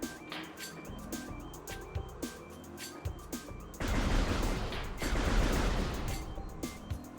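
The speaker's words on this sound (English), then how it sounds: "Do I shoot a rocket again?" Rocket fire in a video game: broad bursts of blast noise, a couple of heavy whooshing explosions loud in the middle, with smaller game effects and beeps before and after.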